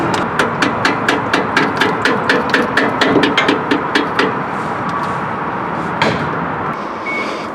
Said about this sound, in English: I might just need to hit it with a hammer.